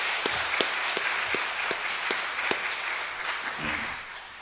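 A church congregation at an anniversary and elder installation service claps to welcome a bishop, a steady round of applause with distinct sharp claps standing out, moderately close, no talking over it.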